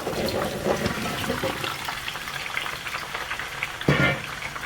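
Carrots, potatoes, peppers and other vegetables fry in a pan for a vegetable stew, with a steady close sizzle and light stirring clatter throughout and a brief louder scrape near the end, no talking.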